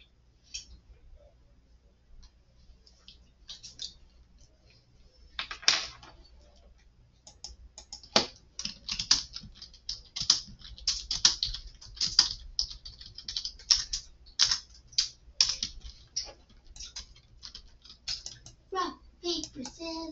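Rapid keyboard typing, a cluster of light clicks in bursts, close by and fairly quiet after a near-silent start.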